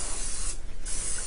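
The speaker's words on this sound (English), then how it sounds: "And then you can spray that." Cooking spray hisses from an aerosol can onto a waffle maker in a home kitchen, one steady spray lasting just over a second with a brief dip midway, close and fairly loud.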